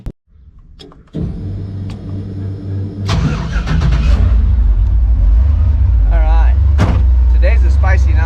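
A Raptor-swapped Ford F100 pickup with new gears starts up and pulls away, its engine rumble building into a steady, loud drone with road noise, and brief mechanical clicks and a door sound early on.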